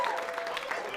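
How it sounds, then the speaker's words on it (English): Comedy club audience clapping steadily for a full second, a dense wash of hand claps at moderate level with no voices on top. "Y'all clapping"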